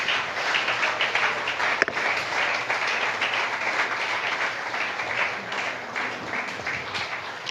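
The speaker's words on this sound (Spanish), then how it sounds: "Dale fuerte ese aplauso al Señor Jesús." A church congregation breaks into loud, sustained applause, many hands clapping in a thick continuous wash, with one sharp knock standing out briefly near the start.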